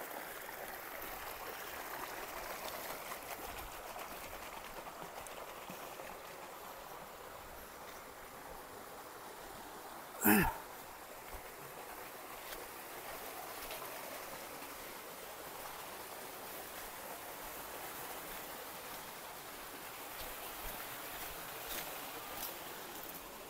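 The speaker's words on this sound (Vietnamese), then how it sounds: "Đây là cái khe suối chắc là bị chặn ở đoạn trên thôi các bạn." A small mountain stream on Mau Son, Lang Son, near a sturgeon farm, its flow partly blocked upstream, makes a faint, steady rushing hiss throughout, broken once midway by a single sharp click.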